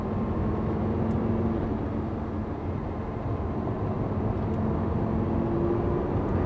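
A Lamborghini Gallardo LP560 engine on a racetrack, a loud, constant low drone heard from inside the car, with little change in pitch across the stretch.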